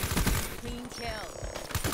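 Rapid automatic gunfire from the Black Ops 3 game rattles in dense bursts at close range, thinning briefly in the middle before the shots pick up again.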